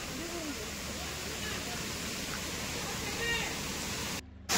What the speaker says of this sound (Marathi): मंडळी, आम्ही पोचलो धबधब्याकडे। धबधबा बघू शकता तुम्ही।